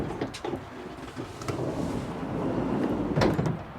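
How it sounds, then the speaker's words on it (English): Side load door of a Toyota Proace electric delivery van opening, a few close clunks and sliding rattles spread over several seconds with no talk. "you have another door where you can get out some of your load"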